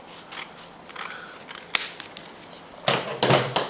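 Scissors snip through excess paper card while a covered card is being finished, a few crisp sharp cuts spaced apart, close and clear, ending in a quick louder cluster of snips.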